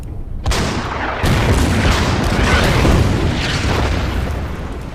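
Artillery firing in the Order of Battle Winter War strategy game, set at Suomussalmi: a sharp booming shot followed by a second heavy blast with a long rumbling tail, loud and close.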